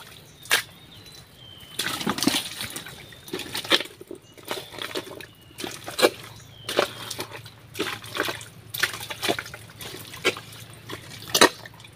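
Water sloshes and trickles in a freshly dug hole, with irregular splashes and drips over a quiet outdoor background.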